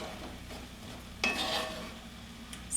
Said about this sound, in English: Stir that around, let it sizzle, let it seal around your zucchini.